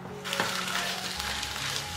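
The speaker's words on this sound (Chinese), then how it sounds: "先把鸡肉放下去炒香" Chicken pieces sizzle and hiss steadily in a dry, oil-free wok, with a spatula scraping now and then as the meat is stirred.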